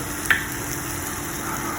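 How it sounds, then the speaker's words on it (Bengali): Thin slices of bottle gourd fry in a pan with a steady close sizzle and one brief utensil tap at the start. "লাউটা পাতলা পাতলা করে কেটে এটা ভাজা ভাজা করছি"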